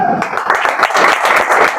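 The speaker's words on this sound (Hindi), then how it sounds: "आप सभी लोग यहाँ पे आए हैं तो अपने लिए भी क्लैपिंग कर लीजिए" An audience claps together for themselves at a gathering, dense sustained applause filling the room with a few voices talking over it.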